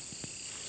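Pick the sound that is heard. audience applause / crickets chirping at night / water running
crickets chirping at night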